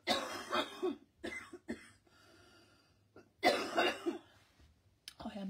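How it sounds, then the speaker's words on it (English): Several bursts of coughing and throat clearing, close by, separated by short quiet gaps and faint breathing. "I'm going to cough again."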